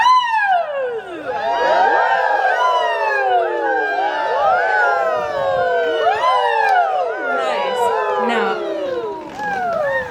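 A chorus of voices imitates a siren as a vocal warm-up, many overlapping rising and falling wails swooping together loudly for the whole stretch.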